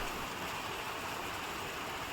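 Heavy unseasonal rain falls in Kankavali, Sindhudurg, as a continuous, fairly quiet hiss of drops with no pauses and no talk.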